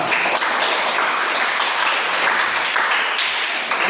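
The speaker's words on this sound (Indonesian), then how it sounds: "tepuk tangan untuk kelompok 2." Classroom applause for a student group after its presentation, a dense, steady burst of many hands clapping nearby that fills the whole stretch with no talk over it.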